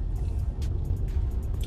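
Inside a mother's truck while riding along, a low, steady rumble of road and engine noise fills the cabin, with a few faint clicks and rustles over it.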